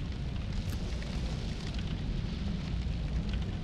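Fire blazes in a hallway in The Evil Within, a steady loud roaring crackle that stays constant and close throughout.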